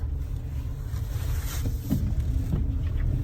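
A car driving along a road, steady low engine and tyre rumble with broadband road noise throughout, a few faint clicks and a brief swell near the end, no voices.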